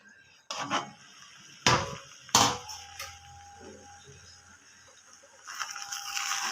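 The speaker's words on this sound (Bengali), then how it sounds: "এবার আমি ঢাকনাটা খুলে দিচ্ছি" Metal lid lifted off a pot of egg pulao in a home kitchen, giving a few sharp clanks and scrapes near the start, then quieter rattling and steady low background noise.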